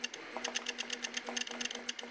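A 3D printer converted into a dot matrix printer prints an image line by line, giving a rapid, steady train of sharp mechanical taps and buzzes over a faint constant hum, close and fairly quiet, with no talking.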